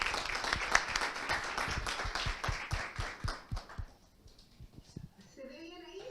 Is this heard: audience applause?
yes